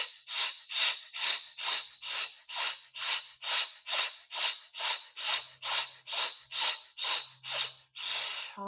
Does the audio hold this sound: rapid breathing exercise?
yes